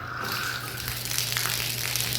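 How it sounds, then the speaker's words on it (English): Water gushes steadily from a tap into a church baptismal pool, a constant close hiss and rush with a low hum underneath, no speech. "to fill the baptismal pool, right here, I'm going to do this and then get water all over myself"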